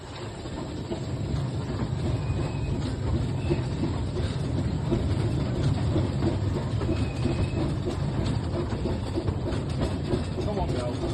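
Cleethorpes Coast Light Railway train running out of Lakeside, a steady dense rumble with rhythmic clatter of wheels on track, heard from on board at moderate level throughout.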